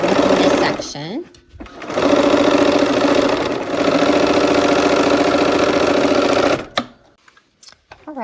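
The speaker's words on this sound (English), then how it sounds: "Let's sew the last seam in this section." Sewing machine stitching the last seam of a pieced quilt block, a loud steady mechanical whir running in two long stretches with a brief pause between, then stopping with a few clicks.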